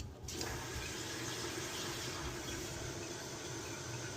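A toilet tank fills with water after a new repair kit is fitted, giving a steady, even rushing hiss that starts abruptly and runs on without a break, fairly close.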